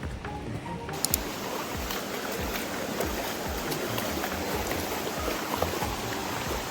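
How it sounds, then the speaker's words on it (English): Steady rushing water of a forest waterfall and stream on a trek, a broad continuous roar close by with no voices. "The third waterfall."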